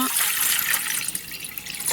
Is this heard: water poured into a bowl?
yes